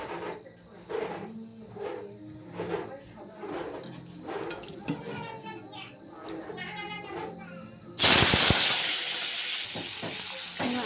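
Potatoes hit hot oil with a sudden loud hiss that keeps sizzling steadily, following several seconds of someone talking over quieter kitchen sounds.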